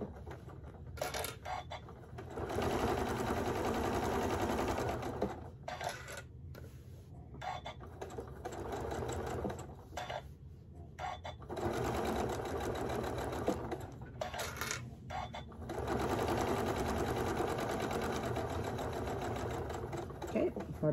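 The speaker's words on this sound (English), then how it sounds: "turn the fabric as you need to and just sew straight like you normally would" A sewing machine stitches fabric for a round pinch pot holder in several long steady runs, stopping and restarting between bursts as the fabric is turned, close and fairly loud with faint background sound.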